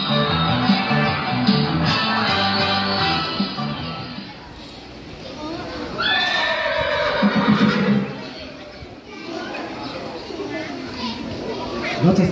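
A horse neigh effect plays during a Thai-language school play performed by grade 4–6 pupils for Thai Language Day, loud whinnying followed by galloping sounds, mixed with children's chatter and a narrator's voice.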